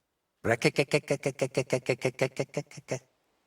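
A voice imitates the croaking of toads found near ponds, with a rapid run of about fifteen short, throaty croaks, close and fairly loud, then stops.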